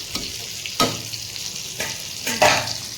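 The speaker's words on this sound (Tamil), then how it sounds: "மீன் வந்து வறுத்துட்ருக்கேன்" Fish fries in oil that sizzles steadily in a pan while a utensil scrapes and stirs a few times, with sharp clatters breaking through the crackle.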